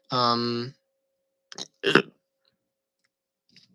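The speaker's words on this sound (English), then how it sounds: "I burp a lot." A single loud, voiced burp from a person at close range, followed by a couple of short mouth or throat noises and then near silence.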